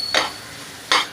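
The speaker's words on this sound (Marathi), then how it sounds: "मी इथे हे बघा सर्व मसाले पहिले एकदमच टाकून घेतले त्यामध्ये आणि त्यांना आता मी व्यवस्थित मिक्स करून घेणार आहे" A spoon scrapes through spices in a cooking pan over a low gas flame, two short brushing stirs separated by a brief pause, close and clear, with no voices.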